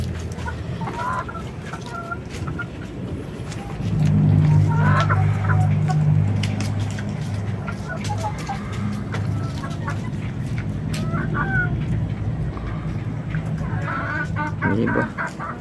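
Chickens on a farm cluck and murmur continuously while drinking water dosed with amoxicillin, with some louder, fuller clucking partway through.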